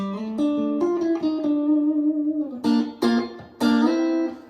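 Electric guitar plays a descending chromatic run of sustained notes, followed by a few louder strummed chord stabs, fairly close and clear.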